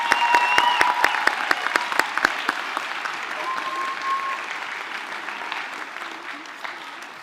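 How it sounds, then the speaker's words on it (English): Audience applause for student musicians at a junior high spring concert, opening with a few sharp distinct claps that blend into a broad, steady round gradually tapering off. "Can we get one more round of applause for all the musicians on the stage tonight?"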